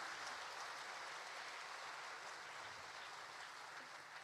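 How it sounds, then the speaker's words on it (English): An audience applauds to open a charity concert, a faint, even wash of clapping that continues steadily with no talk. "Can we give a round of applause to kickstart this"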